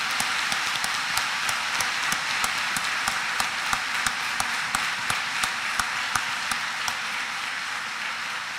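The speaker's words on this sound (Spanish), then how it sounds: "Démosle un aplauso hasta ahí donde se encuentra" A congregation at a Palm Sunday Mass applauds in steady, rhythmic unison, with regular sharp claps over a broad background wash. The sound is moderately loud and goes on with no speech.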